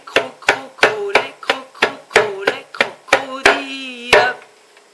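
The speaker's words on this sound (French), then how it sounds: "Donc je prends la derbouka." A darbuka hand drum, played in a children's rhythm lesson, gives about a dozen crisp, close strikes in a steady pulse, with some ringing deeper tones near the end before the beat stops.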